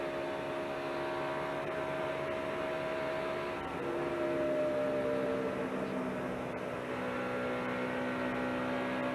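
Bobby Labonte's NASCAR race car holds full throttle in a sustained steady engine drone, fairly faint and distant-sounding, with slight pitch shifts as it carries through the turns.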